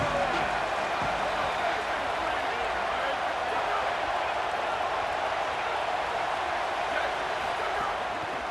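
A stadium crowd at a college football game, Idaho against UConn, roars in a sustained broad wash of cheering that stays loud and constant throughout, with a voice talking over it.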